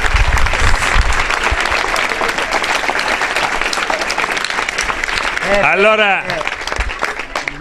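A crowd at a celebration for a newly elected mayor applauds loudly and steadily throughout. Voices talk and call out over the clapping, and a louder shout rises near the end.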